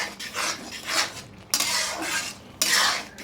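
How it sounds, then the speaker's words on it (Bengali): Lentils cooked with bottle gourd greens are stirred in a pot, with a spoon scraping and clinking against the metal in three short bursts of rubbing strokes, close and fairly quiet, no speech. "এখন এটাকে আমি একটু নাড়াচাড়া করে নিচ্ছি ভালো করে"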